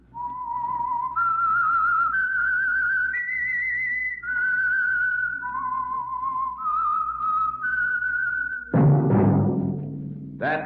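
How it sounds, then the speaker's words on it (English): A lone person whistles a rising and falling melodic theme for a radio mystery show, the clear tone holding steady notes that step up and down, then breaks into a burst of louder broadband sound at the end. "That whistle is your signal for the Signal Oil Program, The Whistler."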